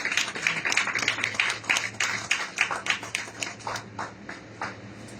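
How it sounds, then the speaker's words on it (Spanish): A church congregation claps during a sermon, giving a burst of hand claps that starts brisk and fairly close, then thins and fades to scattered claps near the end. "Denle un aplauso, Señor."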